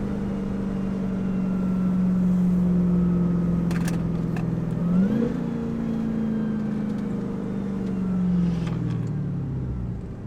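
A 1,000 hp Dodge Demon Charger drives with a loud, sustained supercharger whine over its engine drone, the pitch sliding up and then easing down as it accelerates and settles, heard from inside the car.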